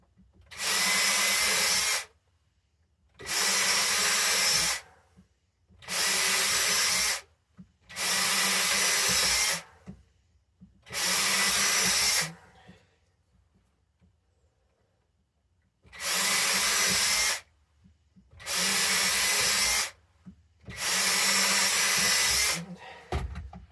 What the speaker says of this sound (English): very small little drill bit, and I do nine holes.